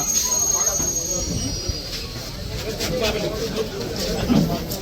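A crowded Kolkata local train running, a continuous rumbling roar with squealing wheels and metallic rattling heard from inside a carriage, loud and steady, with people talking over it.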